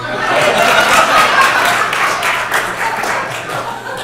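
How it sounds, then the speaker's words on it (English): An audience claps in a loud, dense burst that fills the room, mixed with chuckles and murmuring voices, fading slightly toward the end. "We can clap here."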